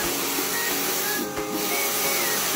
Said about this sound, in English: his biggest enemy, the pressure washer